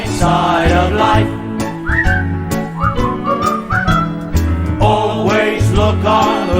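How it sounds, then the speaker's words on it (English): A melodic whistled tune from a song plays over a bouncy band accompaniment, with clear, loud whistled phrases repeating in rhythm. "just purse your lips and whistle, that's the thing"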